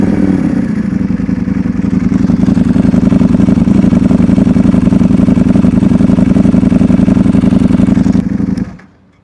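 A 2024 Ducati Multistrada V4 RS idles loud and close, its dry clutch rattling in a fast, steady clatter over the engine's low, throbbing hum for about eight seconds before the engine cuts off into silence.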